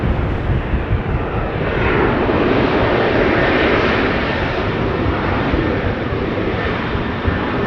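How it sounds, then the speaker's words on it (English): A Cathay Pacific Airbus A350-1000 jet roars at Amsterdam Schiphol airport, a loud, broad, continuous engine rumble and whoosh that swells gently in the middle. "Cathay Pacific A350 1000 behind it."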